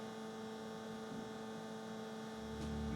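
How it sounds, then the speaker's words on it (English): A refrigerator gives off a steady electrical buzzing hum, constant and close, with a low rumble swelling near the end and no talking. "the fridge just wants to take all my shine right now with its buzzing"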